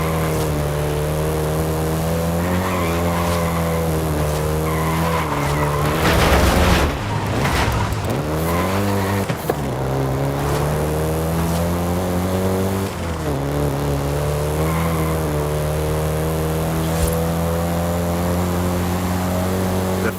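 A Volkswagen Golf GTI in Forza Horizon 5 drives with a loud, continuous engine note that rises and falls through gear changes, with a short burst of road or tyre noise partway through.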